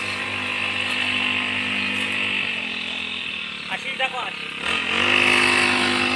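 A grass cutter machine drones steadily outdoors beside a village road in Durde, a continuous motor hum with slight shifts in pitch, while voices are briefly heard over it.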